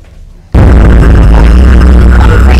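A loud explosion in the block-building game Crafty Craft as a wither is summoned: a sudden heavy blast after a quiet half second, then a sustained roaring rumble that stays very loud to the end.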